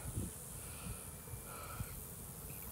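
Honeybees buzz around a hive entrance fitted with a new Boardman feeder tray, a continuous close insect drone with individual wingbeats passing near and fading, set against a faint outdoor background.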